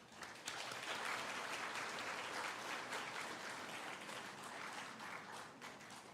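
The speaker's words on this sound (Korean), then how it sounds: "우리 따뜻한 박수로 우리 환영하겠습니다" Church congregation at a Korean Sunday worship service applauds to welcome a family with a new baby; steady, even clapping, fairly faint and distant, continuing without a break.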